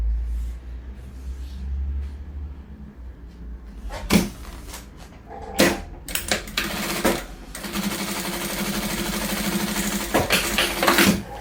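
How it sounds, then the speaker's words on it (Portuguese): A sewing machine stitches fabric scraps for a zipper bag, running in loud close bursts of rapid needle chatter separated by clunks and handling sounds. "E vamos costurar aqui agora"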